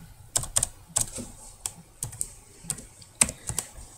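Numbers are typed on a computer keyboard, a sparse run of about a dozen crisp, close key taps at an irregular pace, with quiet pauses in between and nobody talking.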